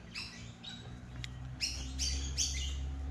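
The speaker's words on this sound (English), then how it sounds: "Birds are chirping." Birds chirp and squawk outdoors at a lakeside wharf on a calm day, with several bright, clustered calls repeating over a low steady rumble, fairly close and moderately loud.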